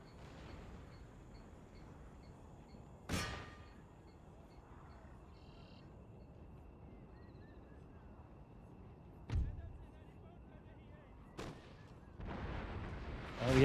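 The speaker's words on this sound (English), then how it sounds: "my artillery groups need an accuracy lesson. They're nothing like French or British artillery." Artillery fire in a video game, with French and British guns mentioned: a few sharp, loud booms at irregular intervals stand out over a steady low game background, the last ones clustered near the end.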